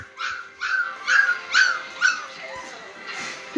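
Puppies whimper and yip in a run of short, high, rising cries, five or six close together, then softer whines trailing off.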